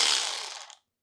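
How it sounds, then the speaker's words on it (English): An electric ratchet whirs loudly and close for under a second during a Jeep 4.0 engine build, its bright, rattling buzz cutting off abruptly. "Sorry, this electric ratchet is so loud, but"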